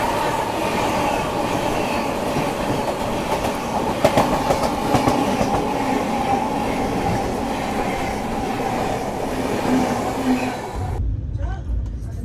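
A train rolls past at night, close and loud, its steady rumble and wheel clatter filling the clip until it cuts off near the end.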